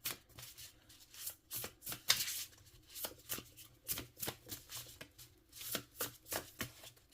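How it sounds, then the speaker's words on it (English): Close, quiet tarot deck shuffling from the Wicked Moon Tarot deck: repeated crisp card slides and taps in an uneven rhythm, with no talking. "Are we ready for some shuffle ASMR?"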